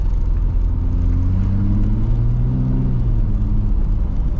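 Turbocharged rear-wheel-drive BMW E36 driving in snow, a close, loud, steady low engine rumble with gently rising and falling tones from inside the car, no talk.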